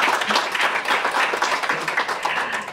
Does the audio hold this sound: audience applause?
yes